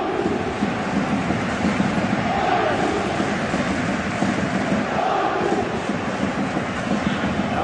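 A video game football match's stadium crowd roars in a steady, dense wall of noise throughout, with no clear peaks or pauses.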